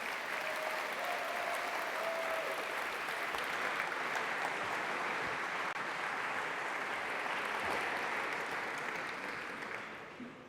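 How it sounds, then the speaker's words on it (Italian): A keynote audience at a Google Cloud Next conference in Milan applauds to welcome a speaker, a broad, sustained roar of many clapping hands heard from a distance that fades slightly at the very end. "vi prego di accogliere con un enorme applauso facendogli sentire l'entusiasmo di Milano"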